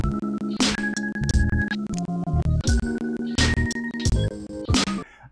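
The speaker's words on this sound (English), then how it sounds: "So we went ahead and recorded a bass line." A recorded bass line plays back in short, punchy repeated notes with a throbbing, rhythmic pattern, no voices over it.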